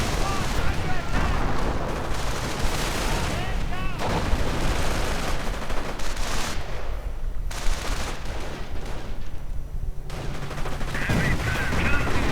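A real-time strategy battle rages with dense gunfire, grenade blasts and flamethrower bursts, loud and continuous throughout, with layered explosions and rattling weapons.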